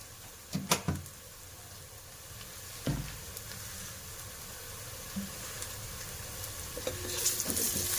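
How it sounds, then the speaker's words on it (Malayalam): Onions sautéing in a pan for a Christmas lunch give a soft, steady sizzle, with a few sharp clatters of stirring near the start and a faint clink partway through. "ഇതൊന്ന് വഴന്ന് വരട്ടെ. അപ്പം നമ്മുടെ ഉള്ളിയെല്ലാം വഴന്നു."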